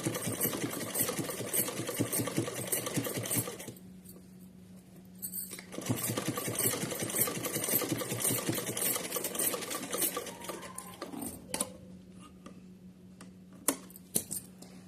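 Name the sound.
sewing machine stitching a Laddu Gopal dress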